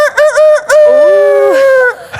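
A person's voice imitates a rooster crowing, giving a loud, close cock-a-doodle-doo with a short choppy start and a long sustained call.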